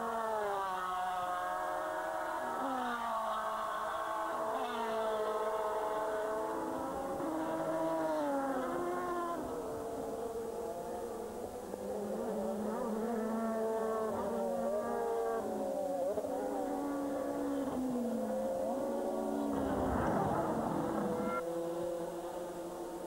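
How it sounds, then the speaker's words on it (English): Ferrari 360 Modena and Porsche GT race cars on the Enna Pergusa circuit during a 2002 FIA GT round, engines droning and shifting pitch as they pass, with a louder surge near the end. "Here's the Ferrari 360Ms. Really have started to elbow their way past the Porsches."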